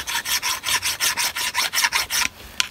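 Rasping strokes of sanding and filing corrosion off a Peugeot 2008 rear brake part, about a dozen quick, even back-and-forth scrapes, loud and close, ending with a single sharp tap.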